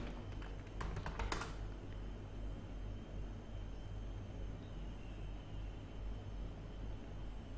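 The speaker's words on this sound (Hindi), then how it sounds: "तो मैं यहाँ पे वेब डेवलपमेंट यहाँ पे टाइप करता हूँ" Brief burst of computer-keyboard typing near the start during a web job search, a quick cluster of clicks that then gives way to steady low background hum with no talking.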